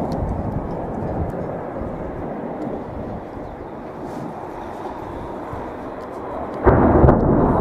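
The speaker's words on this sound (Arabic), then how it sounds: "طيران ميك يصف مدينة" A MiG military jet flies over a town near Damascus during heavy shelling, a loud continuous roar that rumbles on for several seconds and swells louder near the end, heard from the ground outdoors.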